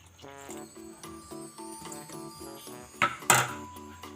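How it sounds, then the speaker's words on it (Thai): Metal cooking pot lid set down after coconut milk is added, a bright clanking clatter with a quick double knock near the end, following soft rhythmic metallic tapping in a quiet kitchen. "แล้วก็ปิดฝาไว้"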